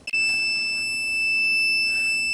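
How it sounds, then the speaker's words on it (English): A heat press machine pressing a sublimation shot glass gives a steady, high electronic beep that holds continuously after a short click at the start, loud and close. "Our machine is beeping, which means our shot glass is finished."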